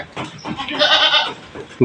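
Goat kids bleating close by in a shed where they are fed a weight-gain mix of wheat and bran, a single loud, wavering bleat lasting about a second, followed by quieter calls.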